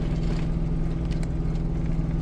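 A Chevrolet Caprice engine hums steadily at a constant, high pitch while driving, its transmission not shifting up, close and moderately loud, with no change in rhythm.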